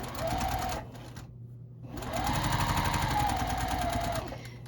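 Close, steady whirring of a sewing machine stitching quilt binding strips along a diagonal line, with a short pause in the middle before the motor starts again and runs on evenly.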